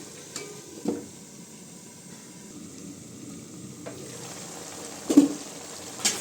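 Country chicken gravy simmers and sizzles softly in a pan while a spoon stirs it, with a few sharp scrapes and clinks of utensil on metal standing out against the low bubbling.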